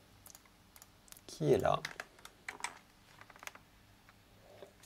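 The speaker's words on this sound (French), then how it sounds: "il va falloir taper quelques petites choses" Commands being typed on a computer keyboard while setting up an SSD, heard as a scattered run of close, light key clicks under a short burst of speech.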